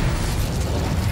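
An Incendio fire spell goes off in Hogwarts Legacy, a brief, loud, rumbling burst of flame filling the whole short moment with no speech.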